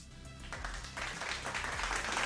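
A canned applause sound effect fires from a live-streaming mixer pad. The clapping crowd noise swells in after a quiet start and keeps building, fairly soft throughout.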